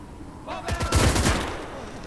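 Gunfire from the Gates of Hell strategy game, a short burst of several rapid shots with rumbling echoes that fade over about a second, loud and close.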